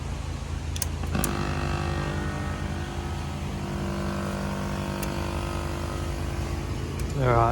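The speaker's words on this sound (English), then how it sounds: "Alright, outdoor fans are on." Outdoor unit fans of an Actron air conditioner with an E9 fault start up and settle into a steady, fairly loud mechanical whir with a tonal hum, running continuously, with a short rising sweep near the end.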